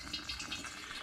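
Homemade cider vinegar, brewed from dehydrated apple pomace, is poured through a strainer to catch trub, a faint continuous liquid trickle and splash lasting about a second.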